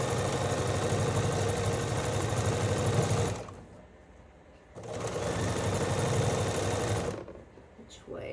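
A sewing machine stitches quilt block fabric in two steady runs of rapid mechanical whirring, each about three seconds, separated by a short pause, with a voice speaking briefly near the end.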